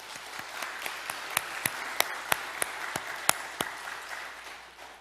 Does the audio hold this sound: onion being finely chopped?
no